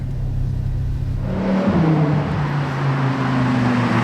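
A car driving up through Place du Casino in Monaco, its engine note rising and passing close by, swelling from a steady low hum into a louder engine sound with a brief pitch sweep, over background street ambience.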